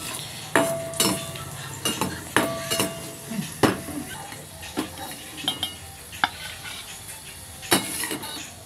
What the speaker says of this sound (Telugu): మొదటిగా కిస్మిస్ వేపుకోవచ్చు ఆయిల్లో